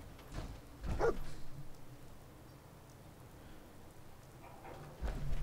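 Dogmeat, the dog companion in Fallout 4, gives two short barks, one near the start and one at the end, against a faint quiet background.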